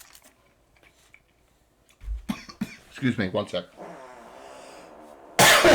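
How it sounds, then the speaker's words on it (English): A person coughs with an allergy tickle at a tabletop game session, a few sharp bursts amid speech, then a loud harsh cough at the end; close and loud with talking throughout. "Damn, stupid tickle cough."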